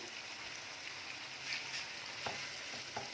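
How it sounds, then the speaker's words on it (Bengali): Chicken pieces for a Gondhoraj lemon chicken sizzle steadily in a pan with spices, a constant frying hiss broken by a few soft stirring knocks near the end. "ভাজা ভাজা করে নিচ্ছি এগুলোকে এখন।"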